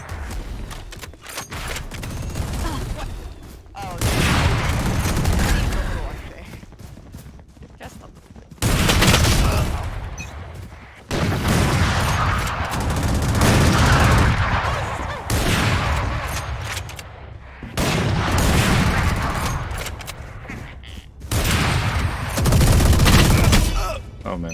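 Video game gunfire from an Odin rifle, with sustained loud bursts of rapid automatic fire repeating in long volleys separated by short gaps, heavy and close throughout.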